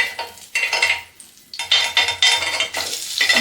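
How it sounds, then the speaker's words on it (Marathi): Butter sizzles in an appe pan on a gas stove, a bright crackling hiss that surges and drops in bursts with a few scraping clinks of a spoon, close and loud, no one speaking. "तर आता आप्पे पॅन मध्ये थोडंसं बटर लावून घ्यायचंय"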